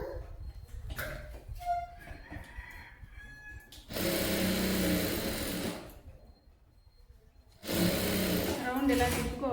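A sewing machine stitches around a saree umbrella frock in bursts, with short runs of whirring separated by pauses where a voice speaks.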